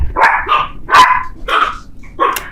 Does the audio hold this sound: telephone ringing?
no